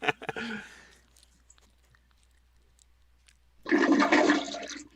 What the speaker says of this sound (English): Was that Greg flushing a real toilet?